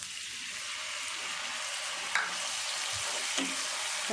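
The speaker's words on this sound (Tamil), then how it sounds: "ஒரு நெல்லிக்காய் அளவு புளி கட்டியாக கரைச்சி வச்சுருக்கேன் அதை ஊற்றுறேன்" Tamarind water goes into hot oil for a ginger curry, giving a continuous close sizzle and bubbling hiss with a couple of faint clinks, no talking.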